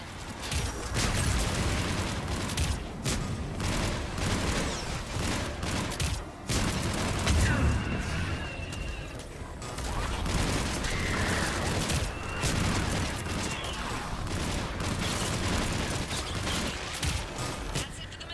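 Missile strikes and gunfire from a gunship in the video game Mass Effect 3: a dense, continuous barrage of booms and rapid shots, loud and close, with voices and game sounds layered underneath.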